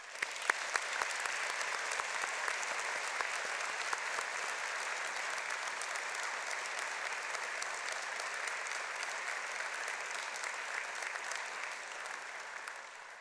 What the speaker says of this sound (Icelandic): Við skulum gefa þessum myndarlega hópi gott klapp.